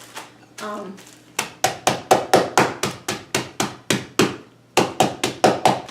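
Walnuts or pecans are struck rapidly into chunks for a carrot cake topping, a steady run of loud, close, sharp knocks in quick regular rhythm after a brief rustle.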